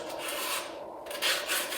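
Sandpaper rubbed by hand around the edges of drilled holes in wood, a close, continuous scratchy rasping in short back-and-forth strokes with no voices.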